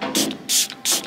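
Three quick hissing bursts of Shine Bright Glow Mist shimmer spray, a pump-action hair mist, each a short sharp spritz close up, evenly spaced with brief pauses between.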